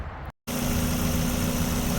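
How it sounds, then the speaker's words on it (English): A steady, low Mazda Miata engine rumble idles continuously after a brief dropout near the start, close and even with no revving, following an EGR cleaning. "Okay, it's running. Idling."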